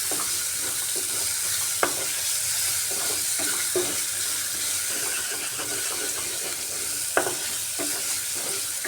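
Sliced onions with salt sizzle steadily in hot oil with black cumin and whole cumin, while a spatula scrapes and stirs the pan in scattered sharp clacks; close, continuous frying with no talk.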